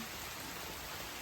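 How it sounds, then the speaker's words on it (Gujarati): Heavy downpour under a red alert, a dense steady hiss of rain falling on surfaces, faint and uniform over a short stretch with no voices. "આટલો ધોધમાર હેવી વરસાદ થઈ રહ્યો છે"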